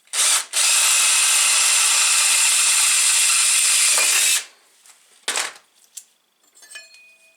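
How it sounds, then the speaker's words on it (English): Power drill boring a bolt hole on a pit bike brake with a 5mm bit, a loud continuous whirring run of about four seconds after a short first burst, then a few clicks and knocks of handling. "I'll drill a hole and put a bolt."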